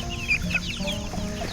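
A chicken clucks in a garden in the background, giving a run of short, moderately loud clucks and squawks with no voices.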